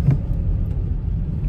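Car engine rumbling low and steady at close range, a continuous idle-to-pull-away drone with a brief rise at the start, no voices over it.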